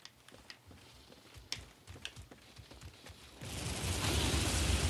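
Gatling gun fire in the video game Bloodborne, heard as scattered sharp shots that swell into a dense, sustained roar of rapid gunfire over the last second or so.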